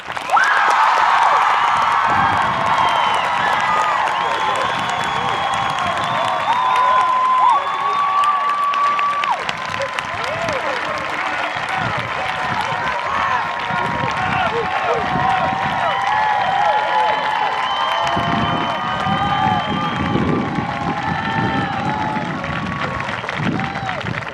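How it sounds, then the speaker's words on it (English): A commencement crowd in a large hall applauds and cheers at length, a dense wash of clapping with shouts and whoops layered over it, steady and loud throughout. "Please give him a round of applause."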